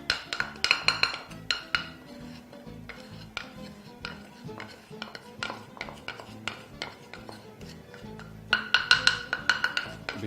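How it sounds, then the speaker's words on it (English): Mixture scraped from a mortar and pestle into a bowl for tomato soup: a close, busy run of clinks, taps and scrapes of utensil on stoneware and dishes, with denser bursts of metallic clicking at the start and end, no voices. "So now transfer your mixture into a bowl."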